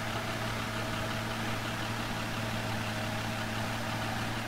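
A tractor engine runs steadily in an Italian farming video game, a constant low idling drone with even hum and no change in pace, fairly quiet and with no talk over it.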